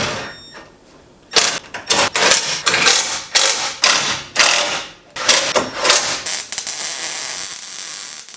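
A hand ratchet tightens bolts on a front cage kit in a Nissan 240SX, giving loud, close bursts of rapid clicking with short pauses in between.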